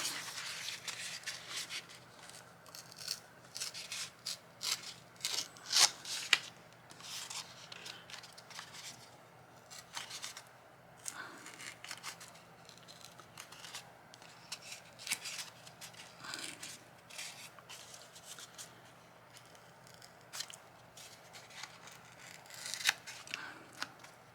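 Mixed-media board being torn by hand, producing a run of uneven crackling, scratchy rips and brief snaps, close and fairly quiet, over a steady low background hum with no talking.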